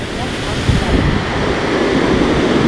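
Waterfall roaring as a steady, dense wash of falling water, loud and constant with wind gusting at the microphone and no distinct voices over it.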